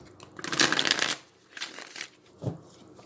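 Tarot cards being shuffled in three quick riffling bursts, the first longest and loudest, with short pauses between them and no talking.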